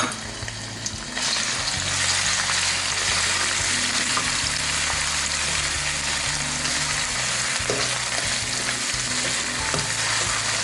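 Pounded chili paste stir-fried in vegetable oil in a pan for a Thai spicy shark stir-fry: loud continuous sizzling with scraping stirs throughout and no speech.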